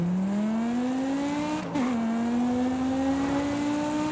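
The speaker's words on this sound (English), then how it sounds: "I don't like how muffled the V10 is." A stock V10 car engine in the video game Forza Horizon 5 drones at steady high revs with a muffled tone, dipping briefly at a gear shift with a small chirp before climbing again, continuous and close with no voices.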